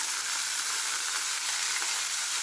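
Marinated onions sizzle steadily in frying oil for pork chop steak, a continuous bright crackling hiss close by with no pauses or voices.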